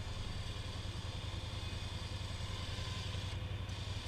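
A dirt bike engine idles steadily nearby with an even, throbbing putter and a slight mechanical clatter, continuous throughout with no talking.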